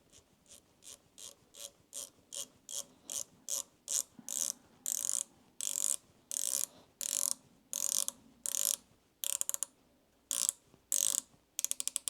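A sewing machine thread tensioner spring being reassembled, giving a long series of sharp, close mechanical clicks, at first quick and light, then louder, longer ratcheting bursts in an uneven rhythm, with no voices.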